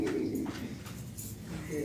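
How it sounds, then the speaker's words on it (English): Birds calling outdoors, with soft pigeon-like coos rising over a low, breezy background murmur, moderately faint and spread across the moment. "birds and wind, it's kinda nice"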